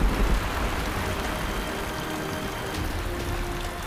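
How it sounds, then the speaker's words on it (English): Steady, dense hiss of heavy thunderstorm rain pouring down continuously on the northern Serengeti, with a low rumbling undertone and no voices. "Little by little, they grow into massive thunderclouds until they burst in a torrent of rain."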